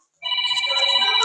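A telephone ringtone starts abruptly after a short silence and rings steadily as a bright, loud electronic tone that sustains to the end of the clip.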